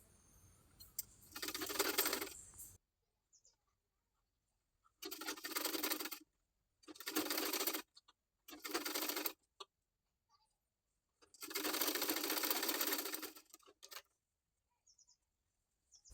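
A home sewing machine stitching blouse latkan fabric, with several separate bursts of fast, even whirring close by, each lasting a second or two, broken by short silences.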